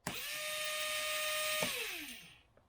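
Small electric gearbox motor in a Nerf blaster being pulsed once, a steady high whine that spins up, holds for about a second and a half, then winds down, close and alone.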